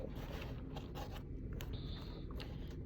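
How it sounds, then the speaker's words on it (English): Tape being pulled off the roll and pressed down over wires on a model one-lane bridge servo setup makes several faint, close ripping and scraping sounds over a steady low hum. "So I'm going to go ahead and just put a couple pieces of tape down"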